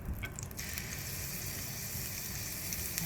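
Namul vegetables stir-fry in a pan with sesame oil and garlic, giving a steady, moderately quiet sizzle throughout with faint stirring scrapes near the start.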